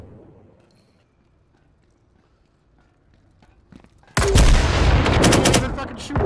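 Loud gunfire erupts abruptly after several seconds of near silence in the Firewall VR shooter game, a dense, sustained burst of rapid shots that continues to the end.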